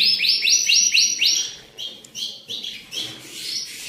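Caged songbirds at a bird shop chirp in rapid bright bursts, a dense run of repeated tweets up front, then scattered calls over a low background murmur.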